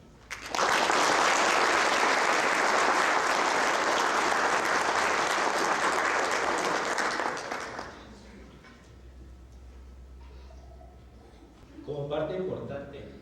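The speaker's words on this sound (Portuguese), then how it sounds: "ustedes son los merecedores del aplauso" An audience at a Spanish-language talk on violence breaks into loud, sustained applause for about seven seconds, then the clapping fades into room murmur and a voice speaks briefly.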